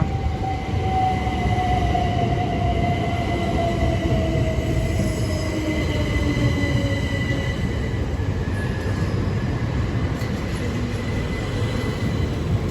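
A London Victoria service train arrives, its rolling rumble loud and steady throughout, with high, drawn-out wheel squeals that slowly fall in pitch as it pulls in.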